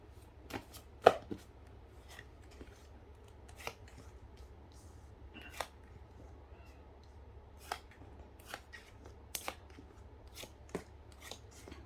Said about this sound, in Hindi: Let me arrange the cards.